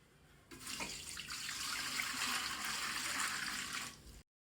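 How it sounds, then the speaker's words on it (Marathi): Tap water runs steadily in a broad hiss for about four seconds, then cuts off abruptly. "पाणी चालू"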